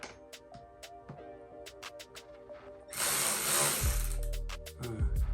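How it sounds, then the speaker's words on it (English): A power drill driving a socket to turn a fastener whirs loudly in a sustained burst, straining and then winding down, after a stretch of lighter tapping and clinking. "We will need a bigger drill"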